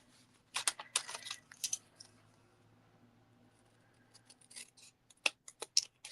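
Scissors snip through a piece of card stock in a few quick, crisp cuts, close and quiet, with small clicks and rustles of paper between the bursts.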